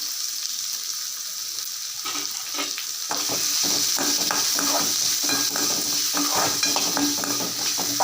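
Oil sizzles steadily in a pan, growing louder as chopped onion goes in, with occasional stirring scrapes and clinks.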